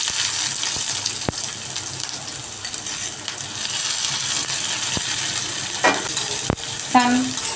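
Mustard seeds, garlic, onion and tomato fry in hot tempering oil for a sandge curry, a steady crackling sizzle with sharp knocks of a spoon against the pan and a short watery gush toward the end.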